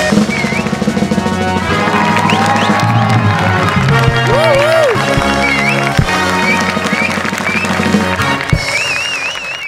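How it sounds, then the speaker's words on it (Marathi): Live studio audience on the Marathi comedy show Maharashtrachi Hasyajatra cheering and applauding to welcome performers, a loud sustained crowd roar under bright music with whistling tones. "जोरदार टाळ्यांनी स्वागत करूया"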